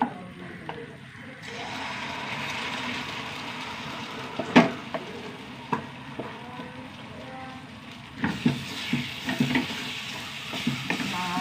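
Soaked semolina being stirred in a frying pan over low heat gives a quiet ongoing sizzle, broken by scattered scrapes and clinks of a spoon against the pan, some sharper than others, with no talking.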